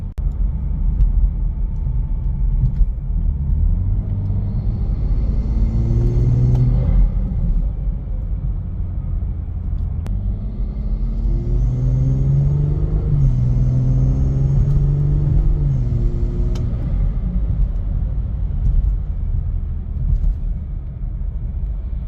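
A Gen 1 B58-engined car fitted with a titanium intake drives by with a steady rumbling engine note, rising in two clear acceleration pulls, with intake whoosh and a brief let-off between them; no one speaks.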